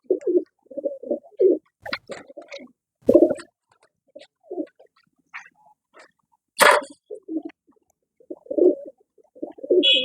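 Pigeons coo in repeated soft, throaty phrases close by, with a few sharper bird calls and a brief bark-like sound mixed in.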